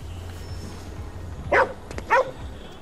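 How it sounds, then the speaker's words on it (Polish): Dog in GhostWire: Tokyo: two short, sharp barks about half a second apart, close by over a low steady hum. "Piesek do mnie przyszedł."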